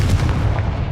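A Confringo spell explosion fires in Hogwarts Legacy on PS5, a loud, heavy boom with a deep rumbling body that rolls on for about a second with no voices over it.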